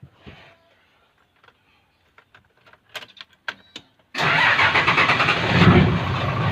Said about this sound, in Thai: เดี๋ยวผมจะสตาร์ทไว้สักพักครับ